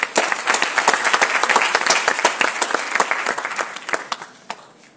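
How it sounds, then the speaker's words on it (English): A crowd at the closing ceremony of an elocution contest series claps in crisp, distinct hand claps, with the rhythm loosening and thinning out as the applause tapers off toward the end. "You should clap for yourself."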